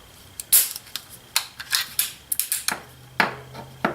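A Browning 1911 .380 Black Label pistol is handled up close, its magazine seating and safety lever giving a quick run of sharp metallic clicks and snaps in an irregular rhythm.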